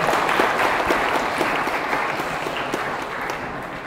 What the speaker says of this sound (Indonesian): Tepukan.